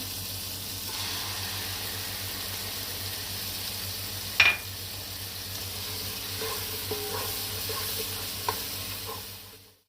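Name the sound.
masala frying in a pan with tomato paste stirred in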